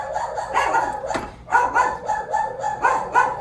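Pet dogs in a suburban home barking at a passer-by outside, several loud, close bursts of barking with short pauses between them and no talking.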